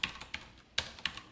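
Keys clack on a computer keyboard while code is typed during a programming lesson, a few sharp separate taps spaced irregularly, close up and fairly quiet, with no voice.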